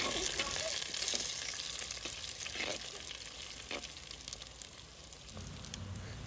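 Onion and garlic sauté with cinnamon, cardamom and bay leaf in a pot on a clay stove in a village kitchen, giving a steady close sizzle broken by occasional stirring scrapes.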